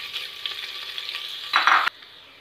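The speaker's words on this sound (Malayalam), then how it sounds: "നമുക്ക് ഉള്ളി ഇട്ട് കൊടുക്കാം. ഉള്ളി ഒന്ന് നമുക്ക് വാട്ടിയെടുക്കാം." Onions sautéing with spices in a pan for chicken mandi, a continuous close sizzle with light stirring scrapes, swelling into a louder burst of frying before cutting off abruptly.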